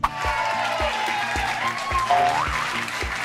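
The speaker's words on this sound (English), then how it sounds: "Let's give a huge round of applause to my friend" A crowd claps and cheers for a performer at a children's counting-song show, the applause running steadily for a few seconds over a bouncy musical beat and melody.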